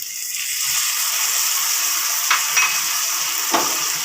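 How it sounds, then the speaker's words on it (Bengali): Spice paste with ginger garlic paste fries steadily in a pan for egg chili, a constant close hiss with a few faint scraping taps of a spoon. "তার সাথে আদা রসুন বাটা এটাকেও দিয়ে মিনিট দিয়ে ভালো করে ভাজতে হবে মশলাটা"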